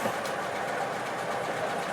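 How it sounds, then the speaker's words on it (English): A truck's engine running steadily inside the cab during a Class A CDL in-cab inspection, a continuous mid-pitched drone with little change in level and no clear rev surge. "make sure it works by revving the truck"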